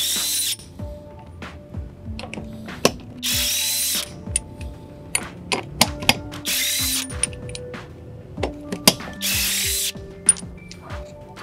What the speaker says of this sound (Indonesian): Kita akan lihat berapa cepat dia melepas baut roda.